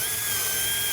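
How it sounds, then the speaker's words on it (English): Power drill used while installing metal ridge cap on a shop roof, a steady high-pitched whine held loud and unbroken throughout with no voices. "So Greg, you got that drill?"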